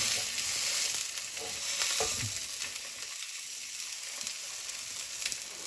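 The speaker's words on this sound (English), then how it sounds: "And when we sear it, we don't want to cook too much into the meat and make it brown." A smoked prime ribeye, cooked sous vide, sears in a hot pan with a steady, close hiss of sizzling fat and a few brief shifts as it settles, no talking.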